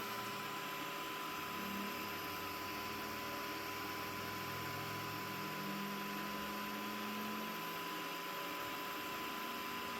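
A Creality Ender-5 Max 3D printer runs its input shaping routine. A loud, steady mechanical drone with humming motor tones carries on throughout, with no voices.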